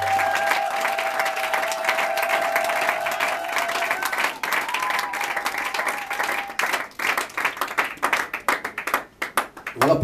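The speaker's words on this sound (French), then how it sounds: "Acclamez pour le roi des rois." A church congregation breaks into applause, dense clapping swelling with crowd noise and voices, then thinning into scattered, uneven claps near the end.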